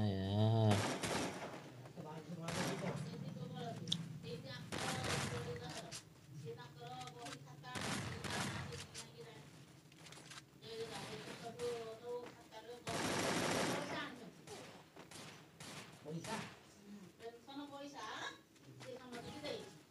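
Gunfire rattles in a Free Fire match during a headshot challenge, sharp repeated shots and bursts over continuous game noise, with someone talking excitedly throughout.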